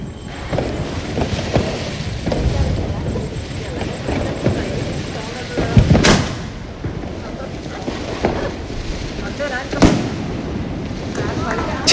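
Diwali firecracker bombs go off outdoors, a run of booming blasts and crackles with two especially sharp, loud bangs standing out, while people talk now and then between explosions.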